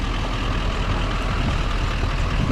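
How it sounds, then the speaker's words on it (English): A diesel truck engine runs steadily with a deep, continuous low rumble that stays loud and even throughout, with no talking. "I love the sound of diesel trucks."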